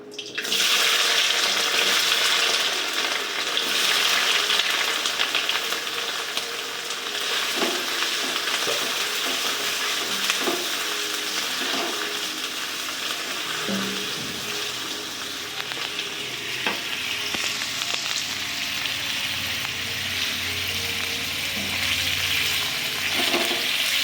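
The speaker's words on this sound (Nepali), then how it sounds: "अब यहाँ तातेपछि तेल हाल्छु अनि पनिरलाई तार्ने" Paneer cubes fry in hot oil in a pan, giving a loud, steady, close sizzle that runs the whole time, with a few faint clinks from the pan.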